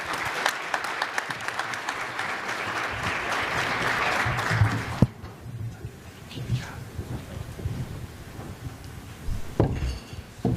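A university innovation-challenge audience claps in a loud, dense burst of applause for about five seconds, then it fades to scattered claps, murmurs and faint movement.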